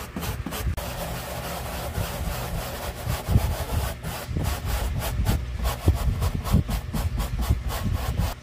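A stiff brush scrubs car interior upholstery by hand with no chemicals, giving close, rhythmic rasping strokes that repeat steadily at a moderate pace.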